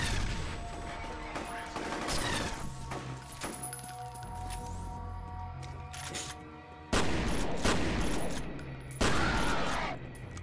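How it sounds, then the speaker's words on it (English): A heavily armored enemy fires rockets in a shooter video game, producing rapid bursts of blasts and impacts that swell and cut off in loud, dense volleys. "He's shooting rockets at you,"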